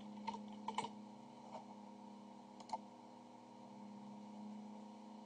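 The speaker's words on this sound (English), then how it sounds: "Just make sure I don't make any typos typing with one hand." Soft one-handed keyboard typing, a few scattered clicks in short bursts over a steady electrical hum, quiet and close.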